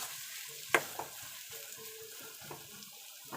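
Frying lightly in a pan during coconut chutney preparation, a quiet, low sizzle broken by a sharp metallic clink early on and a few softer knocks and stirs, with no voices.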